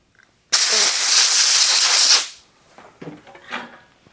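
An aerosol can of brake parts cleaner sprays onto a disassembled Ultratech knife in one loud, close hissing burst of under two seconds, followed by faint handling clicks and rustles.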